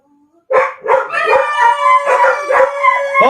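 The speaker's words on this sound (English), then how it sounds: "Oh, there's the dogs." Several dogs howl and bark together, loud and close, with yips and rising howls overlapping continuously after a brief quiet start.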